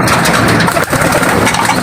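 Pigeons coo and flutter amid a dense, steady wash of background noise, continuous throughout, as they feed.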